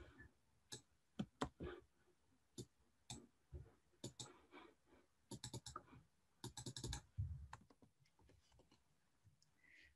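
Typing on a computer keyboard at a desk: scattered, close key clicks in short irregular bursts with pauses between, fairly quiet, with no talk.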